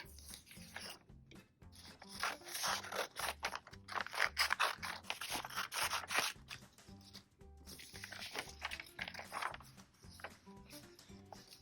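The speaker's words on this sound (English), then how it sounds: "Now we're going to cut out our ice cream cones." Scissors cutting paper ice cream cone shapes from strips, with repeated close snips and rustling paper in steady runs, fairly loud with brief pauses.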